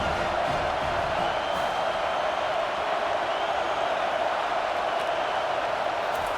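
Steady stadium crowd roar in a College Football 25 game, a continuous broad wash of many voices held at an even level for the whole stretch, with no individual cheers standing out.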